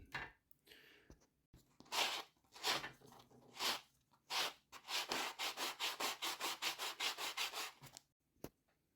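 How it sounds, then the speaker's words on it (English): Rough scratchy strokes of 80 grit sandpaper across a handmade wooden fishing lure, starting with slow, uneven passes and then settling into a quick, steady back-and-forth rhythm, close and fairly quiet. "I like to take some 80 grit sandpaper, and that seems to do a lot better cutting"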